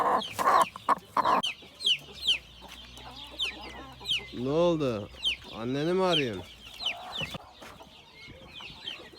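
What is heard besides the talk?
chickens clucking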